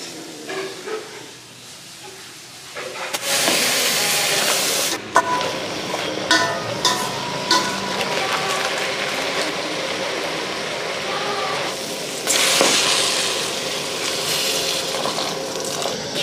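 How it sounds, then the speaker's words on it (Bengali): Khichuri of Gobindobhog rice cooking in a pot as a festival offering, a steady loud hiss of steam and bubbling with intermittent stirring scrapes and clinks, close up throughout. "খিচুড়ি হচ্ছে এখন।"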